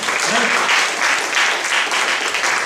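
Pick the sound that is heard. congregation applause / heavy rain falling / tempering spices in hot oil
congregation applause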